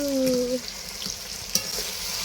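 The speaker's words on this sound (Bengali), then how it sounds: "দেখো বন্ধু ফুলকপিটা কত সুন্দর কষানো হচ্ছে।" Cauliflower sautés in a pan with cumin paste and cashew paste, a steady close sizzle and frying hiss with a brief utensil clink, no talking.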